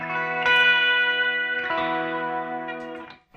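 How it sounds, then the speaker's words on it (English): A sustained distorted electric guitar lead rings out with a slight reverb pedal tail, two strummed chords held in turn, loud and close, before fading out. "I just only use it for just a slight amount of reverb on like a couple leads that I do"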